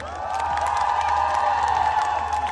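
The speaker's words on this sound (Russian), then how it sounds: "Ваши аплодисменты." Concert crowd at an outdoor summer music festival cheering, whooping and applauding, a loud sustained wash of clapping and shouts holding steady throughout.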